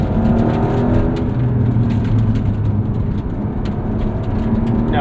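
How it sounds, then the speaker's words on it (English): Engine note of a 2025 Porsche 992.2 Carrera 4 GTS with PDK gearbox on a damp, gravelly road, a steady loud cabin drone with a smooth, not quite immediate downshift and a brief rev rise near the end. "it's a very smooth downshift, but that is not as immediate as I'm used to PDKs being"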